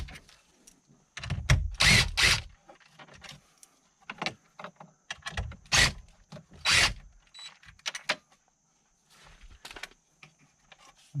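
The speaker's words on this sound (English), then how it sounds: "now I need to take off the 4 7mm screws holding the radio in" A power tool drives out the 7mm screws holding the stereo in a 2015-2020 Ford F-150 dash, in short whirring bursts separated by brief pauses, close up and fairly quiet.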